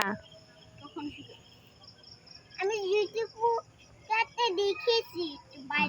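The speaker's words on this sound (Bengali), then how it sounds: "এই জিজি পোকার ডাক শুনছিল" Crickets chirping at night near a village pond, a thin steady high trill running through, partly buried under a child's and adults' nearby voices that come and go.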